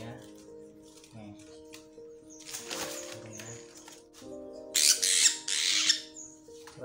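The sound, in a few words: kahicap ranting bird (velvet-fronted nuthatch) calling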